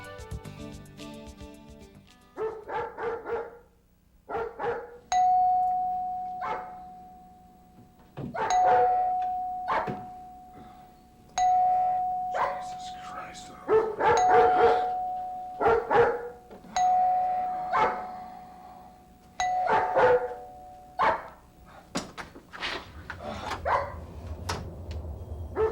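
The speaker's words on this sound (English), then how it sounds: "Excessive barking can be a big nuisance problem." A doorbell chimes repeatedly while a dog barks in loud, sharp bursts around each ring, the sequence repeating close by for the length of the recording.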